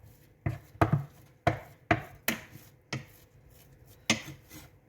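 Choux pastry dough is worked in a saucepan, giving a close, quiet series of sharp scraping knocks roughly every half second, with no voices over it.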